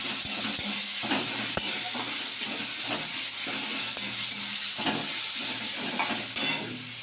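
Ginger, garlic and onion frying in a hot pan, giving a loud, continuous sizzle with steam hiss, broken by repeated stirring scrapes and utensil taps at an irregular rhythm.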